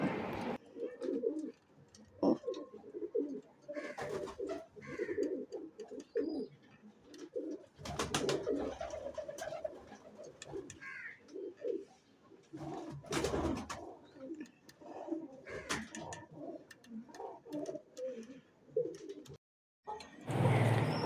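Pigeons coo steadily in a close backyard loft setup, soft throaty rolling calls repeating and overlapping for the whole stretch, with occasional rustles and brief sharper bird sounds mixed in, no talking.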